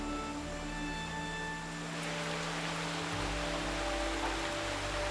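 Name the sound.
monsoon rainstorm on Big Sister Island, Singapore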